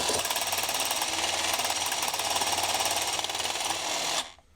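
Milwaukee M12 Fuel hedge trimmer, battery-powered, running under load cutting through a clamped dowel rod: a loud, steady, rapid buzzing rattle of reciprocating blades that holds for about four seconds, then cuts off abruptly.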